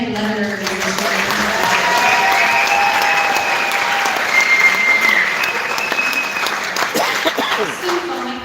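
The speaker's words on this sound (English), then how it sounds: "One more round of applause for all of our band letterers this year." Audience at a spring high school band concert gives a round of applause for the year's band letterers: dense, sustained clapping from a crowd, with voices and cheers mixed in throughout.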